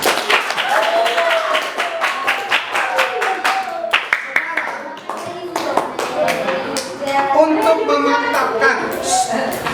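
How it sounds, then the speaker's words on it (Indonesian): Clapping from a classroom audience during a school teaching session, with dense irregular hand claps spread over the whole stretch and children's voices chattering underneath. "Kita beri tepuk tangan yang meriah untuk mereka."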